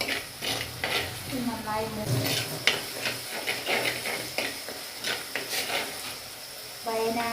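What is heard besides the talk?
sautéing ingredients in a pan for Wayanad fish curry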